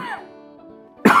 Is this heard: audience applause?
no